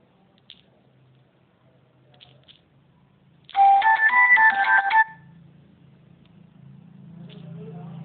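A mobile phone ringtone for an incoming call plays a short melodic burst of about a second and a half, loud and close, then stops as a low background rumble continues.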